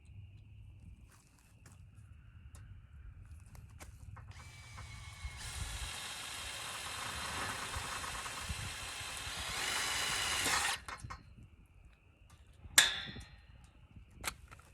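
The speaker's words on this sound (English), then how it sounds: "how well I can get a drill bit into that." A power drill drives a bit into high tunnel framing, whirring loudly and steadily for several seconds, then stops, followed by a sharp metallic clank.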